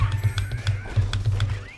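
A donkey in the Disney Universe video game clip-clops along in a steady, rhythmic patter of low hoof thumps that repeat about every quarter second, fairly close and continuous.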